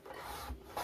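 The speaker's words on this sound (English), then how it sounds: "So I'm gonna cut the other sheet for the second pocket" A paper sheet for a mini album pocket is cut, producing a brief, quiet rasping, scraping sound up close.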